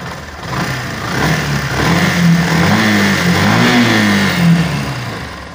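A Yamaha motorcycle fitted with a new cylinder kit that still emits white smoke revs up close and loud, the engine pitch rising and falling in a few swells over a steady running drone, with no talking.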